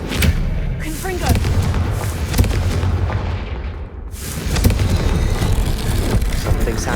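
Confringo fire spell blasts in Hogwarts Legacy, a run of loud booming, gunfire-like bursts that repeat over a dense in-game background, easing briefly midway before another burst of blasts.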